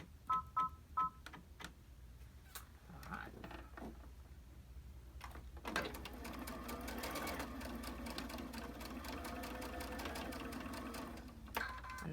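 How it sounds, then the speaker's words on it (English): Sewing machine running steadily, stitching a quarter-inch seam on a fitted fabric face mask, starting after a few short clicks and handling noises and continuing as a loud, even whir for several seconds before stopping. "we're going to stitch 1/4 inch seam again"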